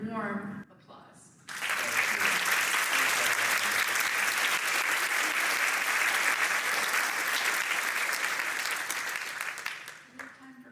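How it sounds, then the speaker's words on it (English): A seminar audience gives the Ferrill family warm, sustained applause, dense and loud for about eight seconds before tapering off, with brief speech just before and after. "I really just want to give you guys an opportunity to give them another warm applause."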